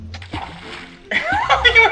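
A minigolf ball drops into a water hazard on a golf park course, a short splashing plop followed by sloshing, with people talking over it.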